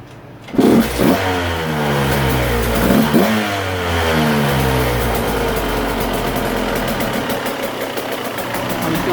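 A rebuilt KTM 150SX two-stroke dirt bike engine fires up after a short silence, then settles into a loud, close, steady idle while warming through a heat cycle, with a couple of small revs early on.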